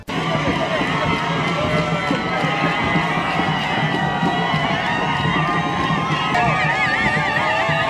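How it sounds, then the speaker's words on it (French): A multicolored crowd lining the route of a presidential motorcade in Chad cheers and shouts continuously, a dense, loud roar of many voices with whistles and excited cries blending together throughout. "le cortège présidentiel a été ovationné par une foule multicolore qui s'est mobilisée sur le trajet"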